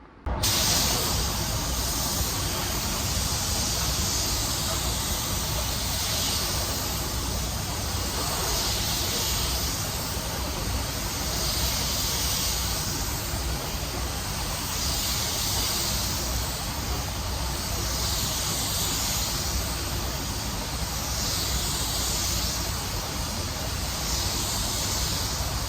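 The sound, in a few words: spray gun spraying metallic paint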